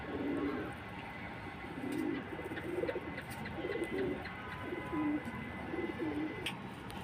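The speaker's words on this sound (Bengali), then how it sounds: "আমার এক প্রকার খুব পছন্দের কবুতর এই মুসালদমরা" Musaldom pigeons coo in soft, low, rounded phrases repeated every second or so, close by over steady background hiss and faint distant chirps.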